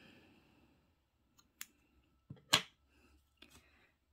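Scissors snip through white crochet yarn while a mini candy corn is finished: a few sparse, sharp clicks and one louder snap near the middle, close and quiet with silence between them and no talking.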